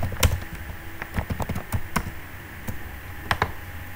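Typing on a computer keyboard, rapid uneven clicks of keys close by, with a few louder strokes and no voice.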